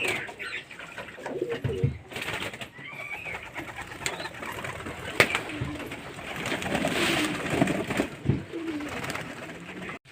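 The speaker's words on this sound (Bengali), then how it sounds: "আর এই যে কিছু পায়রা চান হয়নি, এখনো করছে" Domestic pigeons bathing in water coo repeatedly, close by, with soft rustling and splashing between the calls.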